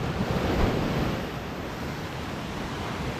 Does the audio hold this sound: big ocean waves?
yes